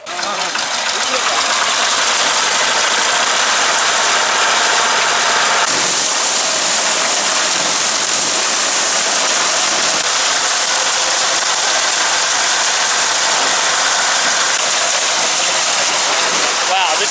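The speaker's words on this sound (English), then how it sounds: "they put it in raw and they put it through the machine, and then out go the leaves, and then the grains come out separately" A rice threshing machine runs loud and close, separating grains from leaves with a continuous dense roar and rattling hiss that keeps a steady level throughout.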